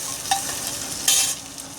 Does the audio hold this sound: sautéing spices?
yes